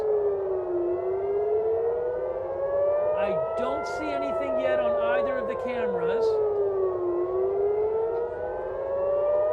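Air raid sirens wail in a slow rising and falling tone, steady and loud, while someone speaks briefly over them.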